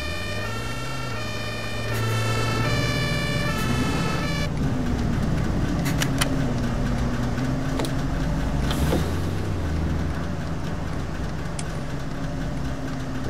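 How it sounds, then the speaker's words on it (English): A video game ambulance siren wails, rising and falling steadily behind a bus, with a rumbling engine and road noise underneath, staying loud and continuous throughout. "there's an ambulance behind you"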